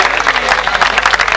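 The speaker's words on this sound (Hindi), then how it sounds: "इस प्रोग्राम के लिए जोर से एक बार तालियां बजा दें" Applause from a crowd at a program in a hall, dense continuous clapping at steady moderate loudness throughout the short stretch.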